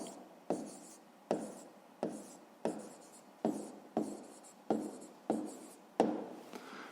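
Pen scratching steadily on paper while a maths answer is written down, in repeated short strokes with a brief tap at the start of each, close and clear with no talking.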